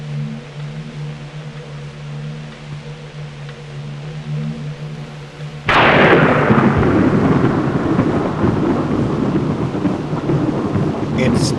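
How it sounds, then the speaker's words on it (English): Rain falls steadily in a film scene, then a sudden loud thunder crack bursts in and rumbles on under heavier downpour, with no voices. "It's still a dark and stormy night."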